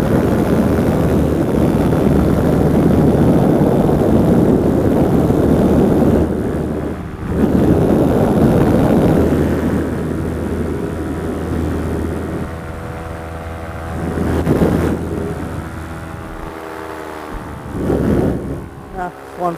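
A paramotor's engine and propeller run on a beach, making a loud, close droning buzz with wind noise that fades and swells as the machine passes.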